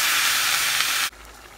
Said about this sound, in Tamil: வதக்கி விட்டுட்டு ஒரு டம்ளர் நம்ம இதில் தண்ணி சேர்த்துக்கலாம்.